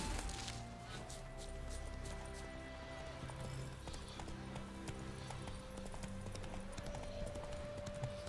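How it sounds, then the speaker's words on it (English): Horse hooves clip-clopping in a steady, quiet rhythm in The Witcher video game, under sustained background music. "Take this wild horse."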